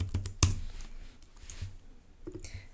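Keys clack on a computer keyboard in short bursts, with one sharp, louder tap near the start and scattered lighter clicks afterward, close and without speech.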